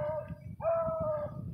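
Beagle barking and baying nearby during a rabbit hunt, two drawn-out howling barks with a brief gap between them, fairly faint against low outdoor background.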